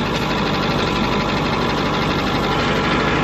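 Car engine running in gear through the transmission, a continuous loud mechanical drone with a steady knocking pulse and no pauses.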